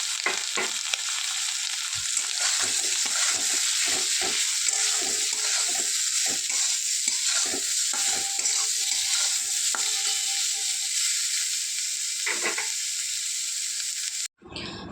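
Soy chunks sizzle steadily in hot oil with turmeric while a spoon scrapes and stirs them in the pan with repeated light strokes, ending with a brief clatter.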